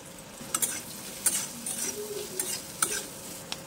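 Mushrooms with salt, cumin powder and chili powder frying in oil in a wok give a soft, steady sizzle, punctuated by sharp clacks of a spatula against the metal every second or so.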